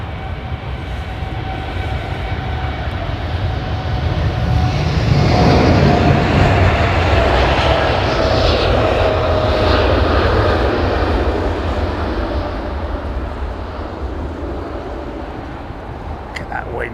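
Air China Boeing 747-8i jet departing, a heavy rumbling engine roar that swells to a peak midway and then slowly fades, with people talking over it.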